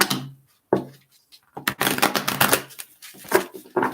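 Tarot cards are shuffled by hand close up, in bursts of riffling and rapid flicking separated by short pauses, with sharp taps as the deck is squared.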